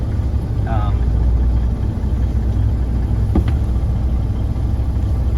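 A 1997 Peterbilt 377 truck with an N14 Cummins engine running, a loud, steady low rumble that stays constant throughout, with a brief faint higher noise partway through.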